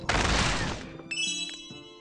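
Plants vs Zombies Match game explosion: a loud, bright crashing burst that decays over about a second, followed by short chiming tonal effects.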